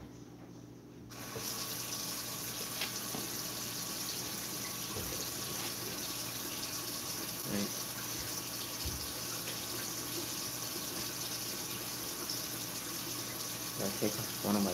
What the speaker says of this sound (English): So we're gonna try run some water.